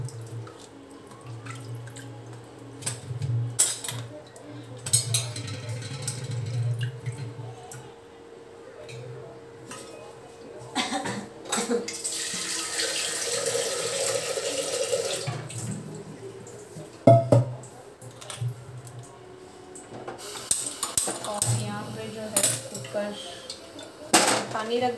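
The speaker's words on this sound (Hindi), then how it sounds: "पानी में वॉश कर दूंगी पहले।" Potatoes being rinsed in water in a metal pot in a home kitchen, with splashing, dripping and clattering against the pot in bursts throughout, some louder sloshing near the middle, and a faint voice in the background.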